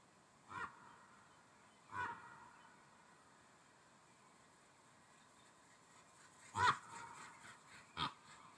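A raven calling in a noisy outdoor field recording, four short harsh croaks spaced irregularly, the last two louder and closer together, over a faint constant background hiss.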